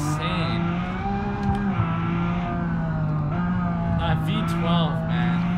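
A V12 car engine in the driving game BeamNG.Drive drones and revs steadily at a high pitch with shifting harmonics, loud and continuous, with a voice talking over it.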